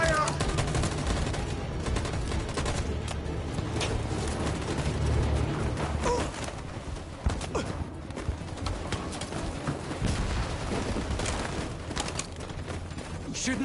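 Volleys of gunfire crackle in Detroit: Become Human during an escape from Jericho: rapid, overlapping shots and sharp cracks repeat steadily at a fairly loud level, with a few brief voices mixed in.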